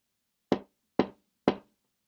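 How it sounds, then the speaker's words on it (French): Three evenly spaced knocks on a door, sharp and close, against near silence. "qui frappe encore à la porte?"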